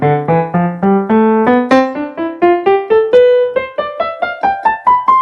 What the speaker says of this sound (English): Now, the keyboard, listen to the sound first.